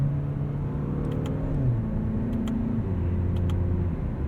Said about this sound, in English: It'll hold gears nicely until red line, and then it'll shift for you automatically.